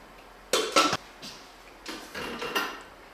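A clean Thermomix bowl is set into its base with a few hard plastic-and-metal clunks and clicks, two close knocks followed by lighter rattling bumps in a quiet kitchen.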